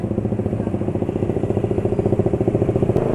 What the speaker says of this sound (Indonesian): suara mesin sudah makin asak-asak